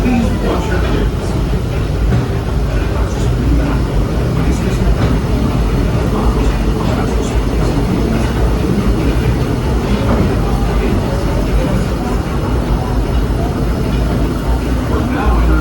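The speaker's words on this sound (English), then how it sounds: "welcome aboard the Disneyland Railroad." Disneyland Railroad steam train rolling along its tracks on the Grand Circle Tour, a steady loud rumble and rattle of the cars with faint rhythmic clatter throughout, no clear voices over it.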